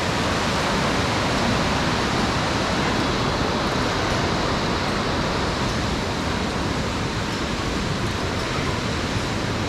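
The fast-flowing Bhagirathi river rushes with a loud, steady roar of turbulent water that continues unbroken from start to finish, with no voices.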